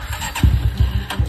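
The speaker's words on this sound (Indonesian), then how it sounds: "kita cek-cekkan dulu seperti nyalanya mesin seperti apa" A Honda GL 100 motorcycle engine cranks and catches, loud and close, with a series of rhythmic low chugging pulses about every fifth of a second as it sputters toward running, no voices over it.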